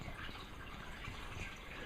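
Water in a small creek runs steadily with a constant broadband rush and faint trickling, close and unbroken throughout.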